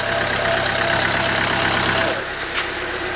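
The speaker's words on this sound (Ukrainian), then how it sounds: "Двигунчик працює рівно, чомусь тільки 1000 обертів." A Renault Logan engine idles steadily at about 1000 rpm, running loud and even before its tone shifts and quiets toward the end.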